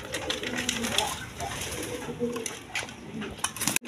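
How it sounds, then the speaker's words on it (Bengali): A pair of Gorra pigeons coo close by, a loud overlapping stream of low throaty coos, with occasional chirps and a sharp clatter just before the end. "এখানে এক পেয়ার গররা কবুতর আছে"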